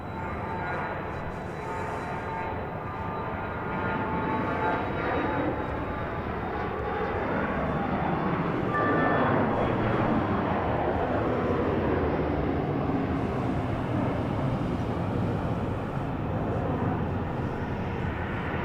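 A jet aircraft takes off from runway 31 right at Dallas Love Field, a loud sustained engine roar that builds and holds steady throughout with no talk over it.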